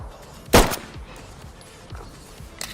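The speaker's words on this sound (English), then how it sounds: "it says the M9's new firing, handling, and reloading audio, and it definitely sounds, looks, and seems a lot better" A single crisp M9 pistol shot rings out loud and close in the Ready Or Not video game, followed by a quieter metallic handling sound near the end.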